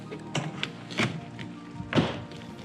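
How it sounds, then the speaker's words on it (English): Side-view mirrors snapping into place on a Toyota Tundra 12V ride-on toy truck give a few soft, close plastic clicks and light taps spaced irregularly, fairly quiet. "Side view mirrors also just clip in"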